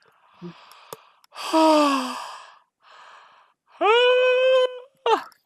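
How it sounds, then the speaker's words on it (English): A person yawns close by: drawn-out, rising, moaning breaths broken by short gasps and pauses, with no other talking. "I'm going to yawn."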